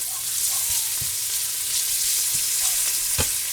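Bacon fries in a pan with a steady, close sizzle and crackle, a few pops standing out, and no talking over it.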